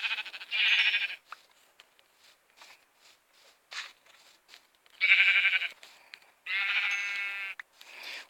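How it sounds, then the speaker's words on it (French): Sheep in a video game give several loud, close bleats in separate bursts, with soft clicks and shuffling in the quiet gaps between them. "Oh, des moutons."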